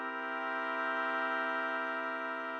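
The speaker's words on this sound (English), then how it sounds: "So if you compare that to the major chord with the minor seventh, the major chord sounds like this." A major chord with a minor seventh added, played as a sustained keyboard-like chord in a music theory lesson, holding steady and loud for nearly three seconds with no talking.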